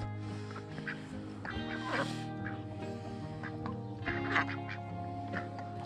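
A dense chorus of ducks quacking and geese honking, loud and close, overlapping continuously with no pauses.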